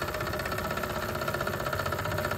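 A steam engine fueled by hydrogen gas runs steadily at close range, its mechanical chuffing and hum continuous and even, with a faint high hiss above, as the gas flow is turned down.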